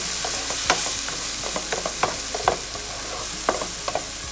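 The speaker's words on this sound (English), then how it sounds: "These are all button mushrooms, cleaned and washed and chopped into finer pieces. And Again, another 5-7 minutes I'll continue to saute." Chopped button mushrooms sauteing in a pan, giving a steady close sizzle with frequent clacking strokes from stirring, and no talking.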